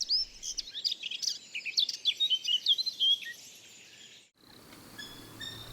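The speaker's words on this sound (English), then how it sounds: "the distinctive male blackcap, serenading females from treetops, is known to many as the nightingale of the north" A male blackcap sings from the treetops in Richmond Park, a rapid run of bright warbling phrases over about four seconds, fairly close and clear, then breaking off into a quieter background.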